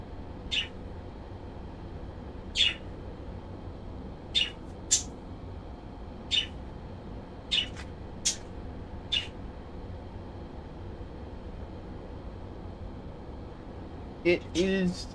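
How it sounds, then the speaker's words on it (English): Pet birds wake up indoors and chirp in short, bright bursts a second or two apart, fairly faint over a low room hum, with a brief cluster of chirps near the end. "So now you're gonna start hearing them chatter."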